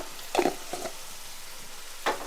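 Onions frying in oil with cumin and turmeric give a steady soft sizzle, broken by a few short spoon scrapes as the spices are stirred through; no one speaks.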